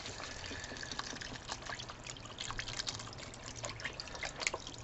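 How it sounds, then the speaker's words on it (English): Chicken stock pours steadily into a pot with a continuous splashing trickle and scattered drips, fairly quiet and close, with no voices. "on goes our chicken stock"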